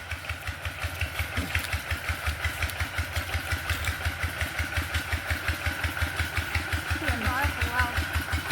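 An engine-driven water pump runs steadily in a flooded banana orchard, its close, even chugging pulse continuing throughout, with a voice briefly heard over it.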